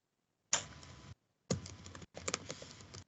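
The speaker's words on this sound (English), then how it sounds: "I was typing the question" Keyboard typing in three quick bursts of dense key clatter, close and fairly loud, separated by short silent gaps, with no voices.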